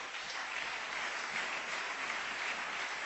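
A church congregation applauds during a sermon, a steady wash of clapping from many hands that fills the whole stretch at moderate, even loudness with no talk.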